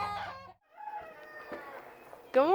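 A rooster crows up close in a backyard flock that includes sex link hens, a harmonic call at the start and another rising crow at the end, with soft clucking and murmurs in between.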